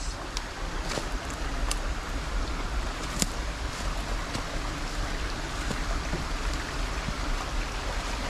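Steady broadband rushing of a flowing river fills the whole stretch, a continuous close wash with occasional faint clicks and no voices.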